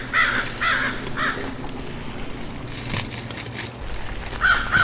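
Several crows caw repeatedly in short, harsh bursts while mobbing owls in trees, some calls close and loud, others farther off, over a steady outdoor background.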